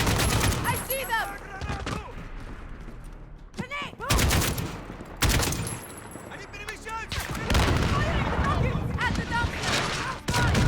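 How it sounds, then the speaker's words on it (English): Sniper shots and rocket blasts in the video game Call of Duty: Modern Warfare (2019), loud sharp reports and booming bursts scattered through a chaotic firefight, with a voice talking over the combat. "Who's firing rockets? And that guy's sniping."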